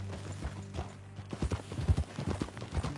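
Horse hooves clip-clop in a quick, steady riding rhythm in the Red Dead Redemption 2 video game, starting faint and growing louder and closer, with a dull thudding quality over a soft ambient background and no talking.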